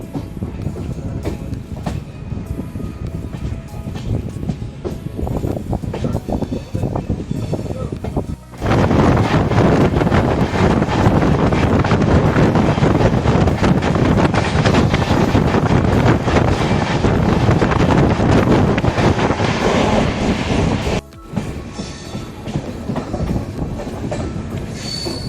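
A train pulling out of Kankavli station in the Konkan region, heard from on board as a loud, steady roar of wheels on rail with clickety-clack rhythm and wind buffeting the microphone, rising sharply partway through.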